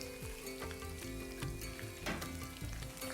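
Chicken wings coated in cornflour and egg frying in hot oil, giving a steady close sizzle with scattered crackles and pops and brief stirring scrapes, no talk.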